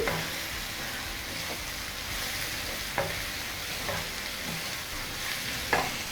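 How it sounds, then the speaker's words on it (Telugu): Onions fry in a pan for an egg fry curry, with a steady dense sizzle and a few sharp scrapes from stirring spread over several seconds, close up and without talk. "ఆనియన్ వీటికి కలపాలి, బాగానే కలుపుతూ వేయించుకోవాలండి."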